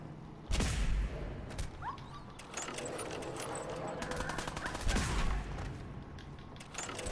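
Several loud gunshots with heavy booms ring out amid dense, continuous battle noise and clattering, with scattered rapid shots in between, in the video game Fallout 4.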